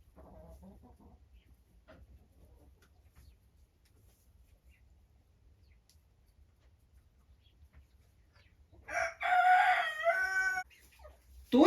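A quiet stretch with faint low background, then a rooster crows loudly near the end, followed by a brief clucking sound.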